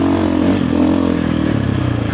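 A motorcycle fitted with a Dobeck EJK fuel controller and a Fastway ProMoto billet end cap revs loudly up close, its engine note dipping and rising again as it shifts into third gear.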